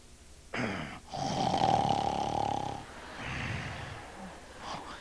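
A voice imitates loud snoring with a long rasping inhale, a short pause, then a drawn-out snore and a softer follow-up breath, close and alone.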